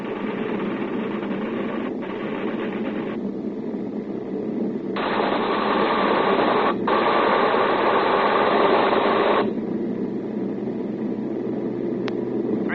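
Bomber aircraft engines drone steadily throughout a 1951 suspense radio drama sound effect, a thick continuous roar that swells louder mid-clip before settling back, with no talk over it.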